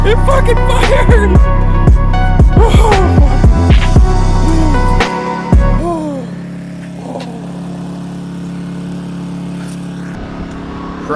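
A turbocharged VR6 engine in a Mk4 car runs to charge its battery, loud and close with a rough idle and a few revs, settling into a steadier drone, with some talk mixed in.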